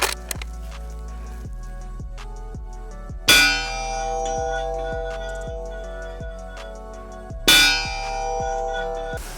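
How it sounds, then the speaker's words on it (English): Subsonic rounds from a B&T APR 8.6 Blackout suppressed rifle strike a steel target at 100 yards, giving two sharp metallic clangs that ring out and decay, with faint ticking between them. "You can hear the difference in it hitting the steel versus"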